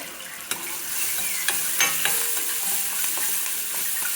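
Curry leaves, green chilies and onions frying in a pan, a bright steady sizzle up close broken by a few sharp stirring knocks and scrapes, with no voices.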